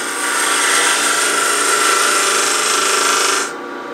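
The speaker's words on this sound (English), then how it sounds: "So I'm going to use a box scraper, come in here" A box scraper cuts wood inside a cup chuck spinning on a lathe, giving a loud, steady hissing scrape with the motor's hum beneath, until the cut stops abruptly near the end.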